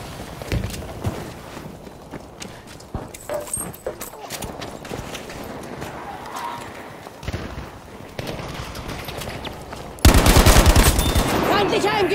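Rapid bursts of automatic machine gun fire in Battlefield V rattle through a noisy battle mix, with a louder, denser volley near the end.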